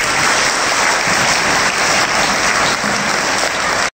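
An audience at a school event claps loudly and steadily for about four seconds to welcome a member of parliament, a dense wall of applause that stops abruptly at the end.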